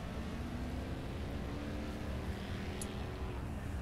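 Race car engines droning continuously in a video game race featuring Mercedes and BMW cars, a steady dense engine roar with a faint higher whine, without break.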